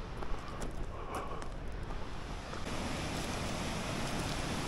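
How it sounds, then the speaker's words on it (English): Glacial meltwater rushing through a steep gorge below the Eiger in the Grindelwald Valley, a constant broad roar of torrent, heard from a distance with wind buffeting the microphone and no talk. "here's a nice gorge. Water coming down from the glaciers."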